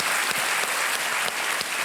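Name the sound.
studio audience applause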